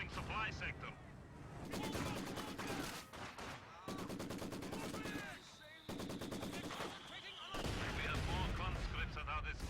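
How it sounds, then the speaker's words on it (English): Rifle grenade and rapid gunfire in Company of Heroes 2, with dense bursts of rifle and machine-gun fire rolling almost continuously under a commentator's voice. "Fires a rifle grenade"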